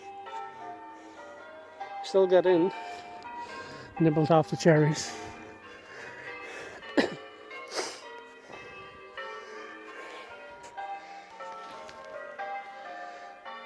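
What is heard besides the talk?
church bells pealing in the countryside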